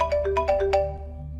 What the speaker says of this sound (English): I woke up again to the sound of my phone's alarm clock blasting.